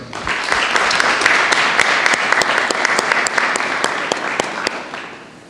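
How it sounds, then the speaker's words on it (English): A round of applause for new National Honor Society inductees at a school induction ceremony, many hands clapping steadily, with loud individual claps standing out close by before it slowly tapers. "Ladies and gentlemen, please give our new inductees a nice round of applause."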